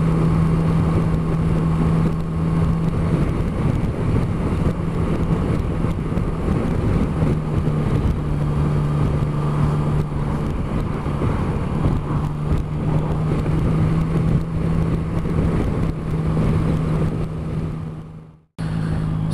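Yamaha Tracer 900 GT motorcycle on a ride, a steady engine drone under loud, constant wind buffeting across the mic, continuous throughout and cutting off abruptly near the end.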